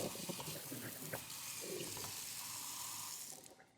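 A newly installed Pfister Indira kitchen faucet runs hot and cold water into the sink, a continuous splashing stream that holds steady for several seconds before tapering off at the end.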